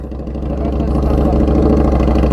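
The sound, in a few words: Honda CB650R motorcycle exhaust with slip-on muffler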